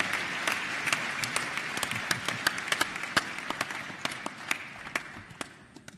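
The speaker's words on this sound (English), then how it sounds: "Let's give you another round of applause, ladies and gentlemen" Audience applause at the Youth Connekt Africa Summit 2017, a steady wash of many hands clapping with sharper individual claps standing out, sustained throughout and slowly tapering toward the end.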